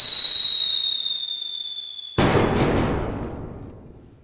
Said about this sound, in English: here we are with the fireworks celebration